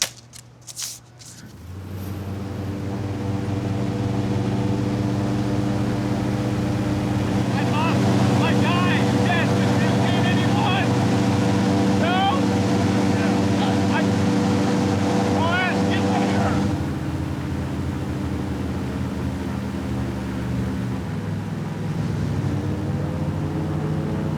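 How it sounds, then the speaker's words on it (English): A loud airboat engine roars steadily during a ride in Florida, building up after a brief start and droning on for a long stretch, with rushing wind noise. "Airboat ride."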